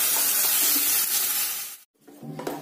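Spice paste goes into frying cumin for a biryani gravy, giving a strong, close sizzle that cuts off abruptly for a moment, then returns more softly with light stirring.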